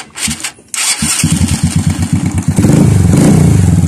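A Euro Sports 110 motorcycle engine with a new timing chain cranks, catches and starts, settling into a loud, steady putter that builds into a fuller rumble near the end.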